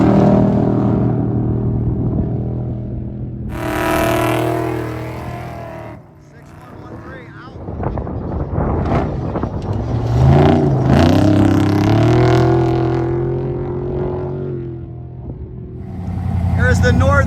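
Off-road race vehicle 4817 in the Vegas to Reno desert race: a loud, close engine revs and roars past in surges, with someone talking over it.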